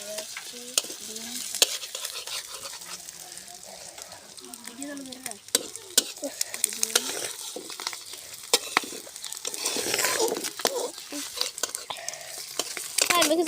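In a pan an egg fries with a continuous sizzle, joined by scraping and clattering as it is flipped, with quiet talk running underneath.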